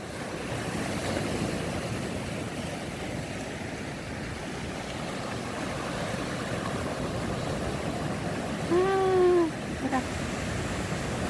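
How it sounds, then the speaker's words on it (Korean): Steady roar of ocean surf washing in continuously at Heungnam beach, with a brief voice and a short tonal sound near the end. "파도 못, 산처럼 달려오는 파도예요"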